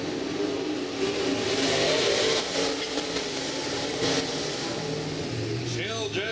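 A race car engine during qualifying races at Humboldt, droning steadily at a distance throughout, with a commentator talking over it.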